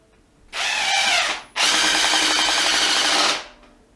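A RIDGID brushless hydraulic (oil-pulse) impact driver drives a screw in two close, loud bursts: a short run of about a second, a brief pause, then a longer steady whirring run of nearly two seconds. No voices are heard.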